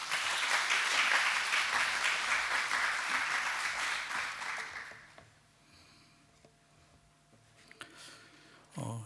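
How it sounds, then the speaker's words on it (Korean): Church congregation applauding during a Sunday worship service to welcome a visiting missionary preacher, a loud sustained wash of many hands clapping that fades out after about five seconds into quiet room sound. "나오실 때 박수로 환영하겠습니다"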